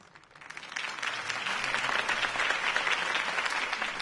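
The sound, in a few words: crowd applause after campaign speech in video game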